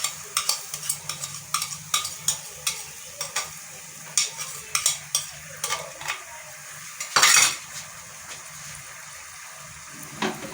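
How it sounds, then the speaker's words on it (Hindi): Spice masala and yogurt being stir-fried in a pan for Lahori chana, with a spoon scraping and clinking against the metal in a steady rhythm over a soft sizzle, and one louder burst of sizzling partway through. "मसाला हमारा भुन चुका"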